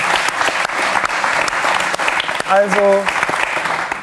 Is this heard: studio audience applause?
yes